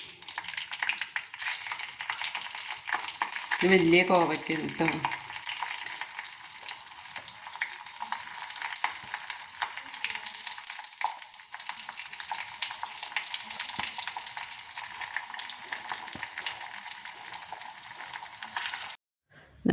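Ivy gourd (kovakka) frying in oil with curry leaves in a pan, a steady close sizzle with a brief louder burst as the pieces go in, continuing evenly, with a short spoken remark over it.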